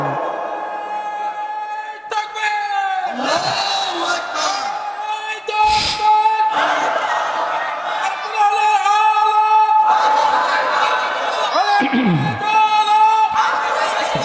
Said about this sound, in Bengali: দুহাত তুলে একটা তাকবীর দিয়ে দেখাই